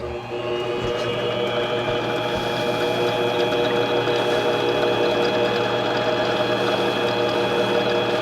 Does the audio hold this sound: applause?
no